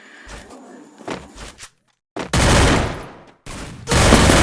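Gunfire in a solo-versus-solo shooter video game comes as short rapid bursts of automatic fire, loud and close, separated by brief gaps, with no talk over them.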